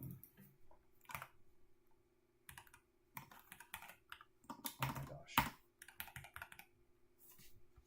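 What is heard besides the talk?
typing on a computer keyboard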